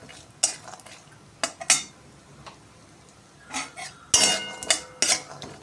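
Vermicelli is stirred and roasted in a little oil in a pan, heard as sharp, irregular metallic clinks and scrapes of a spoon against the vessel with quiet gaps between.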